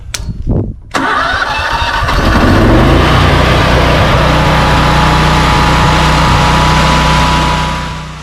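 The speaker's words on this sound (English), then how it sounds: "Turn that on, pull that choke out, and give her a start." A Powerhorse 27,000 watt generator is pull-started with the choke out, giving a couple of sputtering catches and then a loud, steady, close-up engine drone that runs on throughout.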